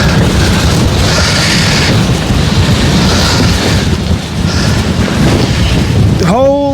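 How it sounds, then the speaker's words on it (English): Strong wind buffets the microphone on a New Zealand hilltop, a loud continuous roaring rumble with surging gusts, and a voice briefly sounds at the very end. "And it's very, very windy up here."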